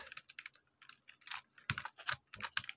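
Code being typed on a computer keyboard, with close, crisp key clicks in quick irregular bursts separated by brief pauses, heard alone.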